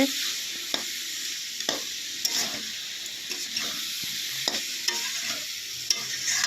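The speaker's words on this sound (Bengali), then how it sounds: "দেখুন এইভাবে নাড়তে নাড়তে ভালো করে ভেজে নেব বেগুনগুলোকে" Eggplant pieces with turmeric, salt and spices frying in oil, a steady hissing sizzle punctuated by regular spatula scrapes and taps against the pan, close up and without voices.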